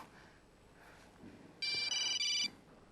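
A telephone rings late at night in three short electronic bursts close together, clear and fairly loud against a quiet room.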